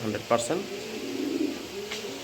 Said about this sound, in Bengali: দেখেন কবুতর দুইটা দেখেন, মাশাআল্লাহ দেখার মতো একটা পেয়ার